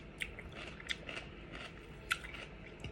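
Crunchy Hami melon bitten and chewed during a lunch meal, a few sharp, close crunches spaced over a soft, quiet background.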